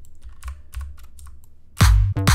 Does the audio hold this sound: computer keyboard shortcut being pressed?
yes